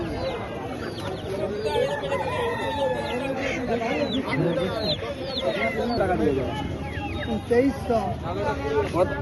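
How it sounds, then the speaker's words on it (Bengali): Chickens cluck busily and a rooster crows amid a village poultry yard, the birds close and loud, layered over a murmur of people talking in the background. "এখন যাচ্ছি যেখানে মুরগ হাঁস টাস থাকে সেই দিকটাতে যাচ্ছি"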